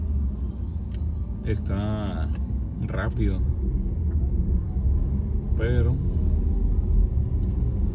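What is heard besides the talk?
road traffic noise on a seaside boulevard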